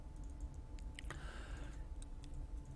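A computer keyboard is typed on during a StarCraft 2 match, giving quiet scattered clicks with a short burst of keystrokes near the middle and a faint steady hum underneath.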